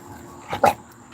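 A dog gives one or two short, muffled barks in a room, brief and moderately loud, with no talking over them.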